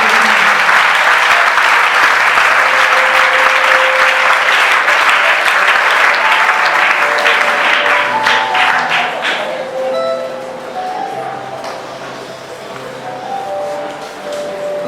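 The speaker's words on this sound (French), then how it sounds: "Est-ce qu'on peut acclamer Jésus?" A church congregation applauds and cheers for Jesus in loud, dense, sustained clapping that fills the room. Around the last third it thins and fades, leaving softer scattered claps with voices and tones underneath.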